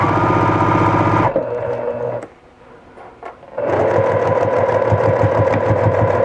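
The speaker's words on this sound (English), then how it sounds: "we're going to sew a half inch seam all the way around" A sewing machine stitching a half inch seam around fabric runs in fast, even bursts, stops briefly, then starts up again. The whirring is loud and close with no voices.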